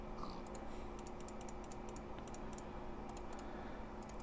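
Mouse buttons clicked rapidly while playing Minecraft in hardcore survival mode. Faint, crisp clicks come in quick bursts over a steady hum, with no voices.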